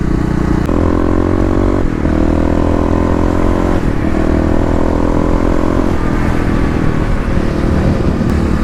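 A Kawasaki KLX351 motorcycle engine drones loudly and steadily while riding through city traffic, with repeated rises in pitch as it accelerates through the gears.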